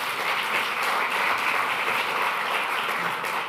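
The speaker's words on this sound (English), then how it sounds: "A nice round of applause for her." An audience at the Global Renewables Summit gives a speaker a round of applause, a loud, continuous burst of many hands clapping that stays even throughout with no one speaking.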